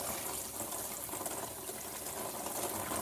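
Tap water runs steadily over and into a pot being rinsed, a continuous, close rushing and splashing hiss with no pauses.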